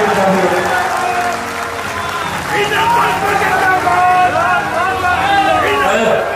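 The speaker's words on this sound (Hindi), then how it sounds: "मैं चाहता हूँ एक बार जोरदार ताली से" An audience at an open-stage public event applauds in a steady, dense wash of clapping that runs the whole time, with a voice speaking Hindi over it.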